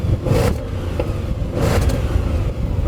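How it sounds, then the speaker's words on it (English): An Audi S8 exhaust revs in loud surges against a soft limiter, rising bursts of throaty engine noise over a deep rumbling idle, close up. "let's have a listen to this exhaust."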